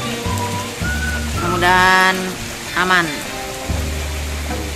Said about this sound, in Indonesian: Hari ini hujan nih, guys.